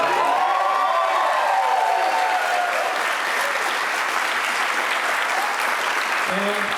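Wedding reception guests clap and cheer for the newly introduced couple, a dense, loud wash of applause with scattered whoops that carries on steadily throughout, and a voice breaks in near the end.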